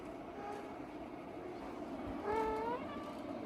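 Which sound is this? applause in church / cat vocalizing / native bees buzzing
cat vocalizing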